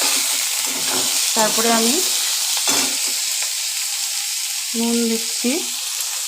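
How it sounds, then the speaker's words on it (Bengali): Snake gourd fries with potato and coconut in a pan, giving a loud, constant sizzle throughout while it is stirred. A person speaks briefly over the frying. "চিচিঙ্গাগুলো দিয়ে নাড়াচাড়া করে নিচ্ছি।"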